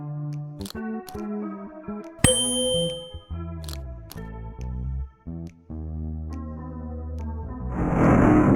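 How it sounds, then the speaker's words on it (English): Bright metallic instrument chimes ring in the Willy Morgan and the Curse of Bone Town adventure game: a run of sustained, bell-like tones with one sharp clang midway, then a hiss of a hidden wall mechanism opening at the end. "The opening mechanism seems to have activated with the sound of the instrument."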